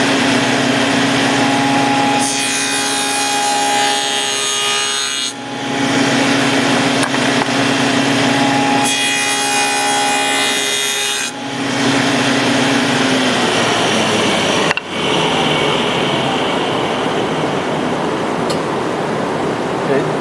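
A table saw makes test cuts for a tenon, its blade whine rising into two loud cutting passes of a few seconds each between stretches of steady motor hum.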